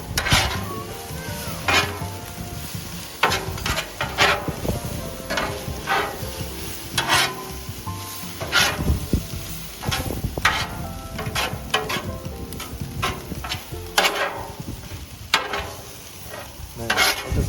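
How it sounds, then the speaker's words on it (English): Fajita meat and vegetables sizzle on a Blackstone griddle while a metal spatula scrapes and clacks against the flat top in frequent irregular strokes, loud and close, with no voices. "Now we're gonna go ahead and mix it up with the veggies that we set up to the side."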